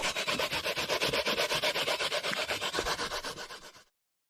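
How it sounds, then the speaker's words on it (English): Coconut being grated by hand on a grater in a home kitchen: fast, rhythmic rasping strokes at an even pace, loud and close, gradually slowing and stopping near the end. "And just grate up the coconut."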